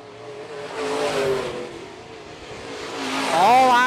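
Modified race cars run down the back straightaway at Phillips County Raceway during the main event, engines roaring loudly and building toward the end, with an announcer talking over the noise.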